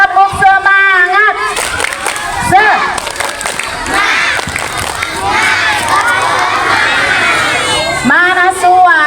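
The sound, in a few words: schoolchildren doing a clapping cheer together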